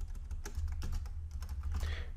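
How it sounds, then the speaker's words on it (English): Brisk typing on a computer keyboard, a rapid irregular run of close, crisp key clicks with no voices. "you do that by typing in checkstyle"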